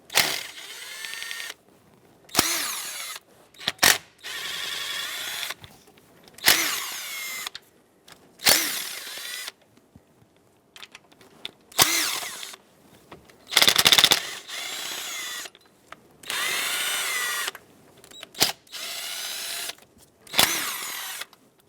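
Power tool unthreading the 8mm valve cover bolts on a 2008-2020 Dodge Grand Caravan engine, working from the outer bolts toward the middle: about ten short whirring bursts of one to two seconds each, close and loud, with brief quiet gaps between them.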